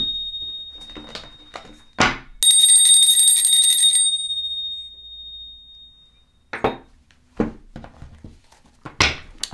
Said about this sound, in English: So Renee, let's ring the bell.